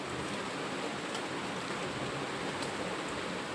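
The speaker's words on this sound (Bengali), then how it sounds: "কীভাবে বৃষ্টি পড়ছে দেখো" Rain falls outside in a steady, dense hiss that stays even and moderately loud throughout, with no voices.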